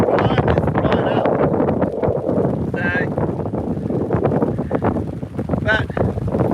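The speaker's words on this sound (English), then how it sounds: "The wind is just blowing up." Wind buffets the microphone in a steady, rough roar on the bank of the Burnett River, with someone talking throughout and a couple of brief higher whistles.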